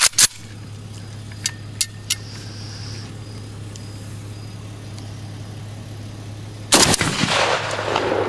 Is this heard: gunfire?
yes